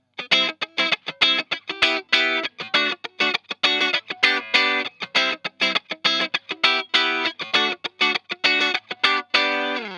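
Distorted electric guitar strumming a chord progression, rhythmic chord stabs with effects, played alone and close, no talking.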